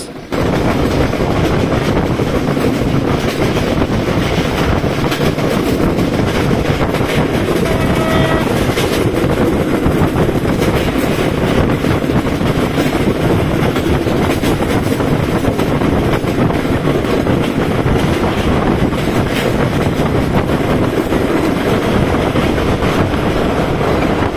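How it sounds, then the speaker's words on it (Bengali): The Titumir Express runs past Arani station on the Rajshahi to Santahar line, a loud, continuous rumble and clatter of the train that holds steady throughout. "এরপরে তিতুমির এক্সপ্রেস আরানি স্টেশন অতিক্রম করে।"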